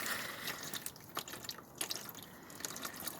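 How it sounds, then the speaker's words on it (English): Transmission oil drains from the loosened pan of a 2008 Dodge Grand Caravan with a 3.3 L engine, making a faint, steady trickle broken by irregular drips and splashes close by. "The pen is completely free from all corners, and the oil is draining."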